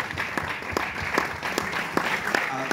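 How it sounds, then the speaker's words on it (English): Applause from a festival film-screening audience in Cologne, steady clapping with a few louder individual claps standing out, close and lively throughout. "a big applause for Archana Taide Sharma"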